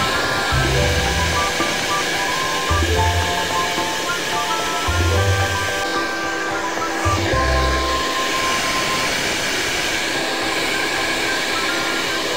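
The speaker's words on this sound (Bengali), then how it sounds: "তো আমি ড্রায়ার নিয়ে নিয়েছি এবং ড্রায়ার দিয়ে শুকিয়ে নিচ্ছি" Steady, loud whooshing roar of a hair dryer blowing on wet hair, continuous throughout with a few low thumps and shifting tones over the airflow.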